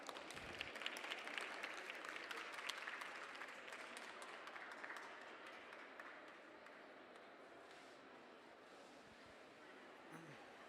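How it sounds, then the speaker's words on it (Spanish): Faint, distant applause from an audience welcoming a speaker at a talk on the teacher-mentor role, loudest at first and then thinning to a soft patter. "Solicito que recibamos con fuerte aplausos para el maestro Urbino Antonio."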